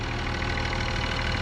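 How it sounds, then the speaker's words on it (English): A 2021 Mercedes-AMG GLE 53 4MATIC+ SUV with a 3-liter inline-6 turbo engine runs at idle, giving a steady, close, even broadband hum with a low rumble and no talk. "this is the engine, 3-liter inline-6 turbo engine"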